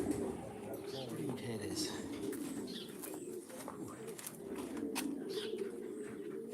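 Pet pigeons in a family loft give soft, repeated cooing close by, with people chatting over and between the coos.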